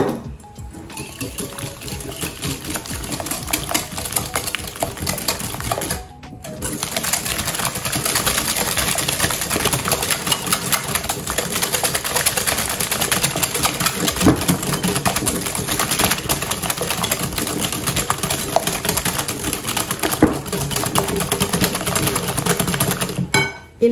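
Sugar and eggs being whipped until pale, likely by an electric mixer, give a loud, continuous whirring buzz that runs steadily for about twenty seconds with a short pause near the start.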